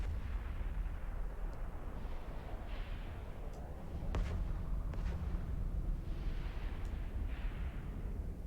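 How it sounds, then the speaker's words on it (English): A volley of missiles launches at once in the space game Eve Online, a dull rumbling barrage of low booms with a few sharp cracks, heard alone without talk. "there's just a really cool effect of just launching a ton of missiles at once"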